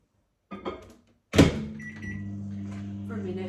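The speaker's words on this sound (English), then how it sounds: "I'm going to heat these up in the microwave to defrost them" A microwave oven runs with a steady low hum after a door thud, heating frozen pak choi; a person speaks briefly at the start.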